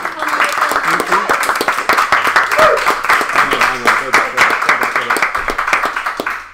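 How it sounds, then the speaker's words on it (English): An audience claps for a guest at a small live event: a dense burst of hand claps, close and loud, sustained with uneven rhythm, with voices talking over it. "If everyone can just give like a round of applause again for Chris for coming"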